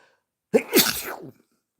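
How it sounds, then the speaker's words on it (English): A single loud human sneeze bursts out close to the mic with a sharp intake and explosive release, surrounded by silence. "sneeze coming"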